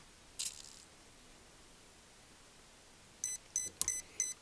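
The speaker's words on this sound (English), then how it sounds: "I got beeping" A Hobbywing Quicrun Mini24 brushless ESC in an SCX24 crawler gives one short beep, then after a quiet gap a quick series of four high electronic beeps during first startup calibration, close and clear.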